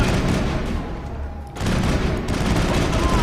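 Turret gunfire in the video game Mass Effect, a loud, dense burst of rapid shots with a brief lull in the middle before the firing resumes.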